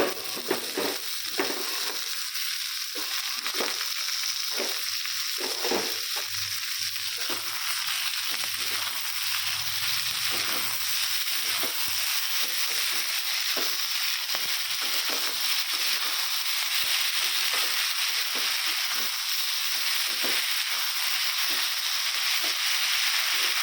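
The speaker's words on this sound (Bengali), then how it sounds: "হালকা ভাজা হয়ে গেল, পাতাগুলো দিয়ে দেবো" Leafy greens frying in a pan, a dense steady hiss and sizzle throughout with repeated stirring scrapes and crunchy rustles, close and constant, no voices.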